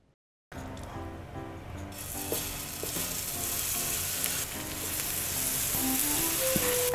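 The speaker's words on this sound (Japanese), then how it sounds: "鉄板をちょっと綺麗にしてからチヂミを焼いていきたいと思います。" Chijimi batter fries on a hot-plate griddle, a steady close sizzle and crackle that builds gradually and continues throughout, with faint scraping clicks in the background.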